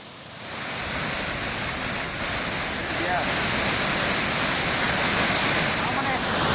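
Suruli waterfall in flood roars as a dense, steady rush of falling water that stays loud and constant throughout, with no pauses.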